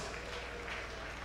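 Faint, distant audience applause at a Nigerian diaspora day celebration, a brief soft patter of clapping over a low electrical hum.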